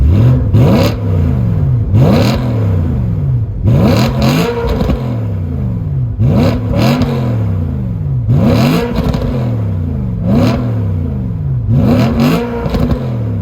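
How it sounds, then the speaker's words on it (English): A BMW E92 M3 engine revs repeatedly through an Akrapovic titanium exhaust, loud and close, with about seven sharp rising bursts in a steady rhythm, each followed by a falling, crackling drop back to idle. "it's the lightweight titanium exhaust. It's actually made by Akrapovic, and it doesn't only sound better"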